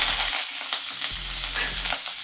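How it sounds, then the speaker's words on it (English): Food sizzles steadily in a hot pan, a constant crackling hiss with occasional soft pops and scraping knocks. "Oh, that's sizzling."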